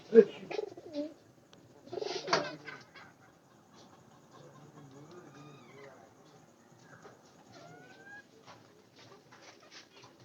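Pigeons in a coop housing a breeding pair with young, giving soft repeated coos and low murmurs close by, with a few louder flutters and clucks early on amid quiet surroundings.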